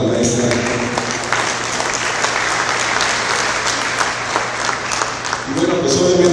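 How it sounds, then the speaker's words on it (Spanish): An audience at a paradigm-change lecture applauds the teacher with loud, dense clapping that holds steady for several seconds, while a voice is heard faintly at the start and again rising at the end. "Un aplauso para la maestra."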